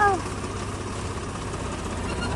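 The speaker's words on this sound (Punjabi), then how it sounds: "ਆ ਗਏ ਆਪਣੇ ਮੋਟਰ ਤੇ ਮੋਟਰ ਚੱਲਦੀ ਆ" A farm tubewell water pump motor runs steadily close by, a constant low hum and rumble with no change in pace, after a brief faint whistle-like tone at the start.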